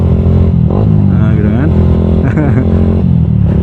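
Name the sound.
motorcycle with racing exhaust revving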